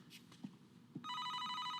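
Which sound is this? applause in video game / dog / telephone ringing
telephone ringing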